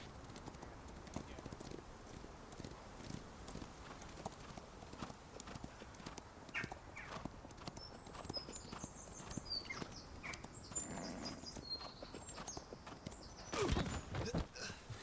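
Horse hooves clop along at a steady walking pace, fairly quiet, with a few faint chirps and a brief thump near the end, during cavalry drill in the video game War of Rights.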